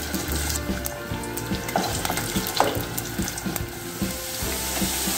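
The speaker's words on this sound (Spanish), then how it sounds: "vamos a añadir las papas y las vamos a freír" Potatoes fry in hot oil in a pot, giving a steady, close sizzle with soft crackles and a few light stirring bumps throughout.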